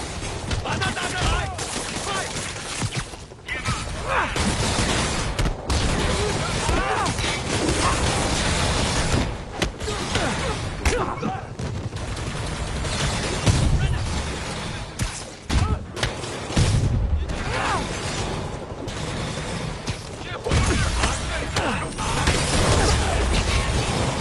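Video game battle gunfire, dense and continuous volleys with thumps and mechanical clatter for over twenty seconds, loud throughout with voices mixed in.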